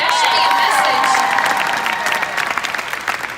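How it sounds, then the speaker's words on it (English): An audience at a conference claps, a dense burst of applause that starts loud and slowly thins toward the end, with some cheering mixed in. "y'all clap for that"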